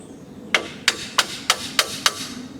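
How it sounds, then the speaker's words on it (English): A small hammer taps on a part of an 80LP trailer brake actuator from a 2009 Ranger boat: six sharp, evenly spaced metallic knocks, close and crisp, with no talking. "I found the smallest hammer I could possibly find"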